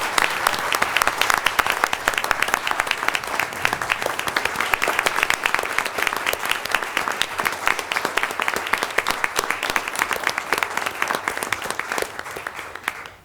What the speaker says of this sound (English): So can we get a big round of applause for that?